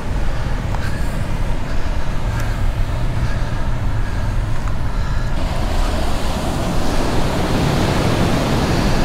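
Steady roar of surf washing onto a remote beach on the west side of Molokai, Hawaii, a constant broad wash of breaking waves mixed with some wind, with no voices.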